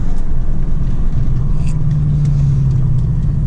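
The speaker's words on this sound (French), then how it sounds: "on aura fait un petit tour à bord de la Mustang" A Ford Mustang engine hums steadily from inside the cabin, a low constant rumble with a slight rise in pitch midway, no talking.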